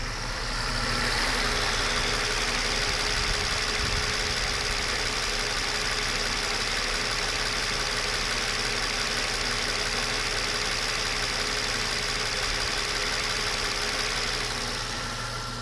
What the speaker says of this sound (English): I'll put the camera down on the engine just so you see that it runs just fine